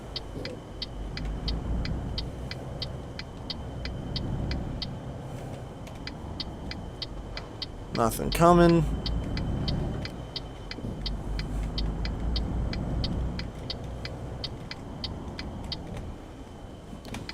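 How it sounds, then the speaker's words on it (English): A Mercedes truck engine in Euro Truck Simulator 2 runs as the truck pulls away: a steady low engine drone with a rapid ticking turn signal over it and a brief rising tonal sweep midway. One short spoken remark comes early. "let's fire up the truck, put on the turn signal, throw her in gear, and off we go."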